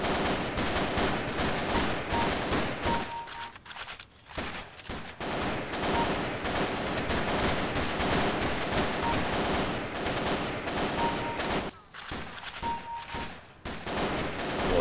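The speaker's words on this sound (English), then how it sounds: "I don't know if you can hear me over all this gunfire" Continuous, dense rapid gunfire from the Half-Life mod Paranoia, bursts overlapping with brief pauses, loud and close throughout.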